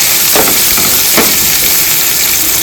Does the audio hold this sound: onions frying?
yes